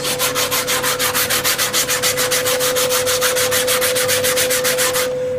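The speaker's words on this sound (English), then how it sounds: "Then you take your brush, might want to wet it a little bit, and just lightly scrub it like this." A wet brush scrubs lightly at glue on a VW Beetle door panel, a steady run of rapid, even back-and-forth strokes, loud and close, with no talking, stopping abruptly near the end.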